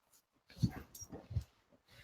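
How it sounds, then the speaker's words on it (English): A dog whimpering indoors in a few short, soft whines and yelps with brief pauses between them, close but faint. "That's my dog, everyone."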